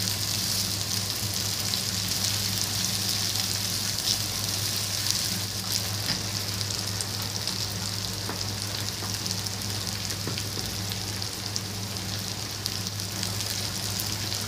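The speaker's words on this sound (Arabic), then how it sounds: "طبعا السلق بنخليه ينزل كل الميه اللي فيه." Swiss chard sizzles in a pan as it releases its water, making a steady, even frying hiss with faint crackles and a low hum behind it throughout.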